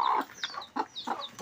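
Broody hen guarding her eggs gives a run of short, soft clucks and grumbling notes in a quick uneven rhythm, close by and alone.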